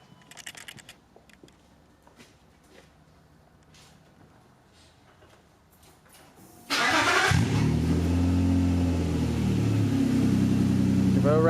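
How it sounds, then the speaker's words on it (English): Quiet shop ambience with faint clatter, then a car engine cranks and fires abruptly into a loud, steady idle with a deep burbling rumble through a freshly TIG-welded exhaust, close by. "we'll get it down off the ramp and start it up and see what it sounds / looks like"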